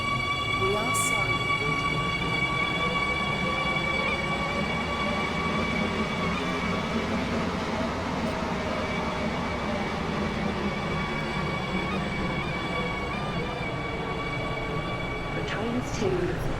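A Class 555 train in the Roblox game Stepford County Railway runs steadily with a continuous motor hum and rising and falling tonal whine, and brief high squeals near the start and end.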